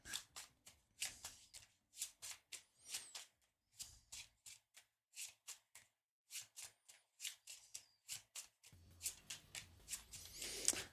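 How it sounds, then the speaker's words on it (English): Linen-finish playing cards are shuffled again and again, a quiet close run of crisp riffling bursts with brief pauses between them, ending in a denser flurry. "Shuffle them thoroughly."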